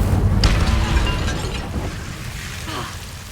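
A fire spell cast in a Wizarding World game erupts as a loud, rumbling whoosh with a low boom at the start, fading into crackling flame over a few seconds.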